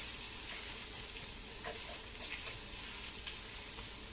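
Eggplant and potatoes fry in hot oil in a pan, a steady, dense sizzle that fills the whole stretch, with a couple of faint utensil clicks near the end.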